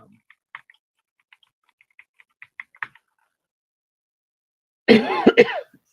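Faint scattered ticks and taps, then a sudden close cough burst of two or three harsh hacks near the end.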